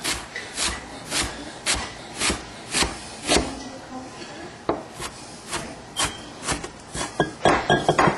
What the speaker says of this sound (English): a fresh batch of parsley that we got from the market this morning. I'm going to give that a short, coarse chop.